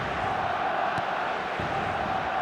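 A stadium crowd in eFootball roars after a Barcelona goal, a dense sustained wash of cheering that holds at steady volume throughout.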